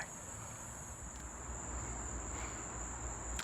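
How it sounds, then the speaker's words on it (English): Crickets chirp steadily at night in a high, continuous trill over a quiet low background hum, faint and unbroken throughout. "I hear some revelers in the background, but for the most part, just crickets."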